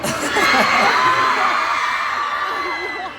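A large convention crowd at Comic Con in Argentina cheers, whoops and shouts continuously, a dense loud roar of many voices with high yells rising above it and little variation in level.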